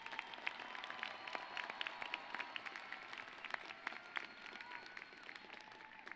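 A graduation ceremony audience at a university commencement gives sustained applause, a dense wash of many hands clapping at a distance in a large space, steady throughout at moderate level.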